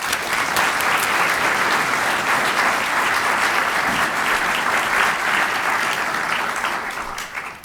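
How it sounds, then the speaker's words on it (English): A lecture audience applauds to welcome a speaker, a dense, sustained clapping that holds steady for several seconds before thinning at the end, with no talk over it. "Please join me in giving a rousing round of applause to Andrew Blauvelt."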